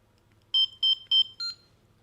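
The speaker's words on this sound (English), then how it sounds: "it'll make your phone ring just like that." Four short, bright electronic beeps in an even rhythm, clean and close, a phone ringtone triggered from a Chipolo tracker, over a faint low hum.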